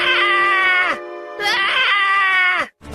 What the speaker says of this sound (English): one of the men cried out,